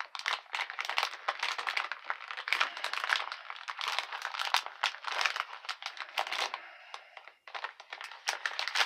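A plastic bag is being crinkled and pulled at in a struggle to open it, giving close, irregular bursts of crackling and rustling with short pauses between them.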